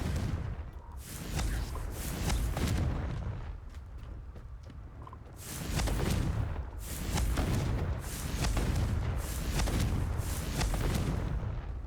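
Heavy rolling blasts and crackling booms from Confringo blasting spells in the Hogwarts Legacy video game, several loud surges separated by quieter rumbling stretches, with no voices.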